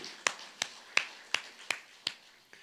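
A church congregation at a Sunday worship service claps in steady unison, about seven sharp, evenly spaced claps that stand out close and distinct against a quiet background.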